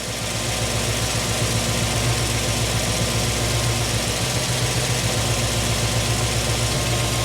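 An AMC 304 V8 in a Jeep CJ-7 idles steadily and loudly throughout, a continuous low rumble with an even, unbroken drone close to the engine.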